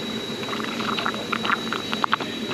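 Water trickling and dripping out of a car's AC drain tube, a soft irregular patter with small splashes, fairly quiet and steady throughout.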